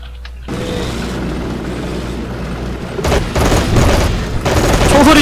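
Steady rumbling engine drone with bursts of distant gunfire and explosions growing denser toward the end, no voices, in the video game Men of War II, with a motorcycle.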